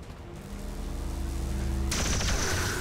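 A burst of gunfire in XCOM 2, starting with a low droning hum that suddenly gives way to a loud crackling volley, with no speech over it.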